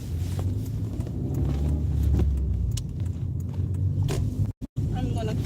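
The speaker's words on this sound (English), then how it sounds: "Oh, what a big car coming." Large car passing by on a street under grey rainy skies, a low rumbling engine swell that builds and fades, with people talking nearby.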